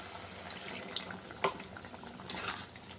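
Water is poured into a pan of spiced masala for a Bengali katla fish curry, a faint wet splash and soft sizzle with a brief louder gush in the middle.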